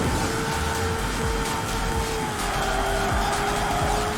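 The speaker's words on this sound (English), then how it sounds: "Ah, nice drift." Car drifting in the video game Xenon Racer: a loud, sustained tire squeal over a constant engine roar, the skid whine holding steady for several seconds with no voice over it.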